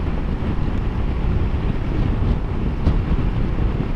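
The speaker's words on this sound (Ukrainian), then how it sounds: "Погода ураган, не холодно." Strong gusting wind buffets the microphone while riding from Warsaw toward Kovel, a loud steady roar with rushing broadband noise and low thumps and no voices.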